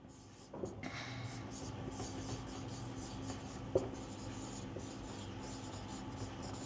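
Chalk or marker writing an example on a classroom board, a steady faint scratching and rubbing that runs continuously under low room hum, with one brief tap partway through.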